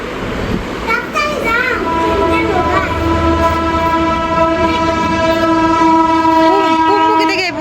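A train passing close by with a long, loud horn blast held for several seconds over rumbling wheels, with voices faintly audible beneath.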